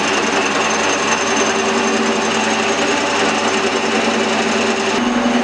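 A workshop machine runs loud and steady, a dense continuous mechanical buzz with a rapid hammering texture, close by and unbroken, with a slight change in tone near the end; no one speaks.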